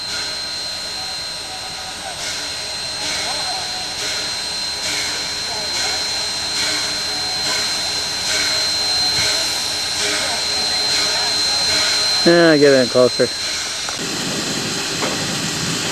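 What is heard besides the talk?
steam locomotive number 9 hissing while dumping its fire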